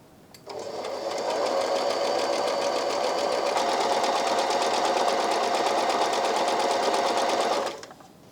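A Brother My Star 3 sewing machine sews a scallop stitch in one continuous run of close, steady, rapid mechanical whirring and clatter, starting and stopping cleanly after about seven seconds.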